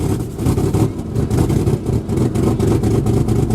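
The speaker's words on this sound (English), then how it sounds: "Hear that starter spin?" An old, cold-natured vehicle's starter cranks and its engine catches, heard as a loud, close, rough churning rumble with a pulsing rhythm throughout, no voices over it.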